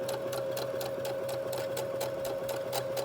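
Sewing machine stitching rows of shirring on fabric, a steady close mechanical hum with fast, regular needle clatter running continuously throughout.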